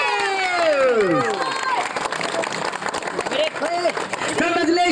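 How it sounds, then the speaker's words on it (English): A school crowd claps and cheers for the winning cricket team at an inter-school tournament, with shouts and children's voices under a loud announcer speaking over a PA. "Let's give them a round of applause."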